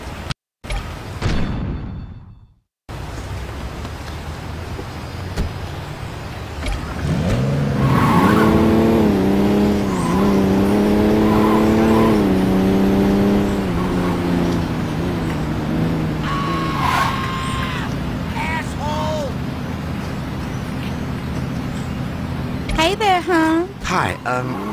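A car driven in the video game Saints Row, with a loud engine whining and revving through rising and falling gear pitches, tires skidding, and game voices speaking at points over a continuous drone.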